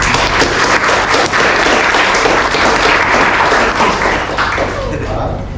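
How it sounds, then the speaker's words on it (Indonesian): Loud, close applause from an audience at the end of an academic presentation session, dense steady clapping with some sharper taps, voices faintly mixed in, easing a little toward the close. "Mari kita berikan tepuk tangan yang meriah"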